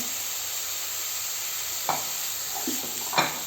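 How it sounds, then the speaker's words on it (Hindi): Boiled potatoes and beans fry in a pan over low gas, giving a steady close sizzle with a few scraping stirs of a spoon near the end; no voices. "आधे मिनट के लिए हम इसे भून लेंगे।"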